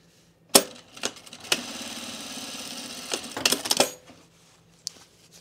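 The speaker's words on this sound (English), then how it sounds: "you're going to sew your 5/8 inch seam" A sewing machine runs a 5/8 inch seam on pants fabric, stitching in a few short bursts followed by one steady run of about two seconds, with clicks and handling noises between, close and moderately loud.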